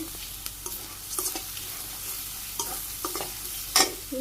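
Spices for a village-style curry fry in a pan, a soft continuous sizzle broken by repeated scraping stirs and a sharper clink near the end, close and with no talk.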